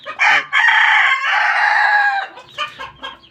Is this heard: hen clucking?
yes